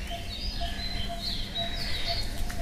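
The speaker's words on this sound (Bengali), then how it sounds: "এখনো পাখির আওয়াজ হচ্ছে" Birds calling outdoors in the early morning among flowering shrubs: several thin whistled calls repeat over a steady, moderately loud background hum, with no talking.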